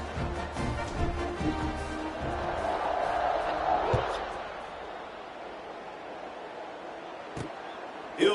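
A large stadium crowd in the College Football 26 video game roars steadily in the distance, a broad wash of cheering that swells slightly, then eases, with a few sharp thuds near the end.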